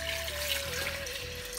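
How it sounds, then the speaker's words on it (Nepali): Water poured into a cooker over eggs for boiling, a steady close rushing stream with a sustained tone running throughout, no speech. "अब यो चाहिँ पानी हाल्दैछु"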